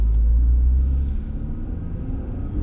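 A Fiat Toro 2.4 Flex pickup (2017 Freedom) accelerating up a winding mountain road, a steady deep engine rumble heard from inside the cabin, strong at first and easing slightly, with no voices.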